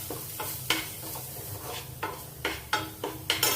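Onions with spices and salt are stirred in a hot pan, a low sizzle broken by repeated sharp scrapes and taps of a utensil against the pan in an irregular rhythm, close and without speech.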